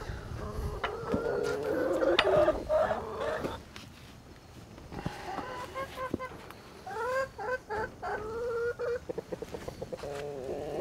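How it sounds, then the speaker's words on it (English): Several chickens cluck and squawk close by, their calls rising and falling in uneven bursts over a low background rumble. "All right, chickens, Meryl, you be a good boy."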